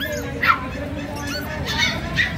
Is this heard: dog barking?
yes